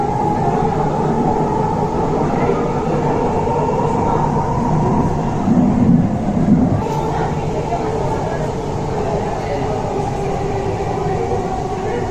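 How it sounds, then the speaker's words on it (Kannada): Namma Metro train in Bangalore running between stations, heard from inside as a steady loud rumble and whir with faint mechanical clatter, while a passenger announcement plays over it. "Train will arrive in Singayanapalia."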